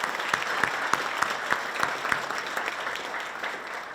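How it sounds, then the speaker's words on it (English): An audience at a chamber of commerce legislative breakfast claps in a steady round of applause, moderately loud with a few sharper claps standing out near the front. "So a round of applause for"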